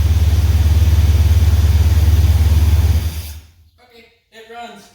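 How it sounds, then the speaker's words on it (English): A 400 big block V8 in a truck idles with a loud, deep, steady rumble and then shuts off abruptly, leaving near-silence followed by someone talking. "Well, it runs. Actually sounds decent. This is a 400 big block in this truck."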